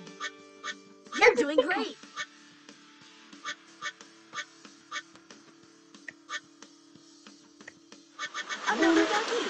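Cartoon duck quacks sound in short, repeated bursts as duckies are collected in a Paw Patrol water park video game, mixed with game effects and a voice speaking.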